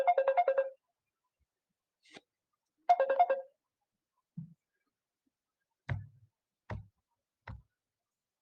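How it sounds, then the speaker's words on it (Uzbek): A mobile phone ringtone plays two short melodic bursts a few seconds apart, quiet and thin, followed by a handful of faint, sparse taps in an otherwise silent room. "shu paytda telefon bo'layapti"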